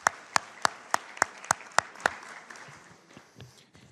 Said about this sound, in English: Brahim, please, round of applause